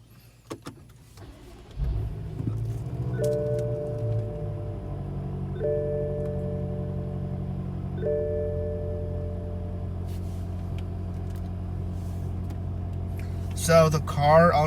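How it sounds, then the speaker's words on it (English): A BMW F10 M5 with about 50,000 miles is cold-started, its engine catching with a loud low surge that settles into a steady rumbling idle, with electronic chime tones sounding over it and a brief rustle near the end. "So I'm gonna do a cold start here."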